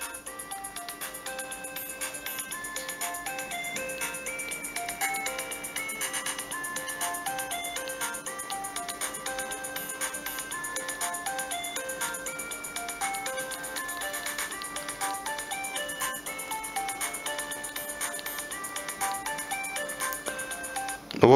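Bright electronic game music and tone melodies play steadily from a Sony Ericsson Elm J10i mobile phone, a continuous loud chiptune-like stream of beeps without speech.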